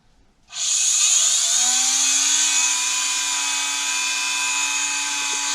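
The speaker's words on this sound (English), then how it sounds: "now all we're going to do is take this Dremel" A Dremel rotary tool spins up suddenly and keeps up a high, steady whine while cutting on a Predator 212 engine. The whine is loud and close, its pitch shifting slightly as it bites, with no talk.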